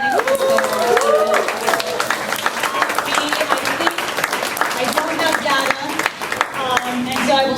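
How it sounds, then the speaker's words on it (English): A crowd at a March for Science gathering claps and cheers together, loud sustained applause with whoops and raised voices layered on top and a few shouts standing out. "please, can we all give ourselves a huge round of applause?"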